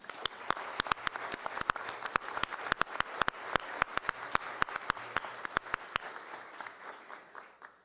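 Applause rises from an audience honouring Brazilian Expeditionary Force (FEB) veterans from Mato Grosso do Sul at a state legislative session, with dense, steady clapping and sharp individual claps that hold for several seconds before thinning out at the end.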